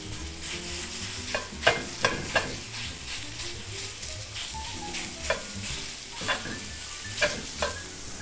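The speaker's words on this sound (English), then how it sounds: "So I'm going to start out by just browning this beef in pork." Beef and pork brown in a pan over medium heat for empanadas, giving a steady sizzle broken by the scrape and clack of stirring several times, fairly close, with no voices.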